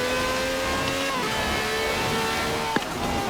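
A Porsche GT2 RS engine screams at high RPM in Forza Horizon 4, a loud continuous whine with shifting pitch and a brief sharp tick near the end.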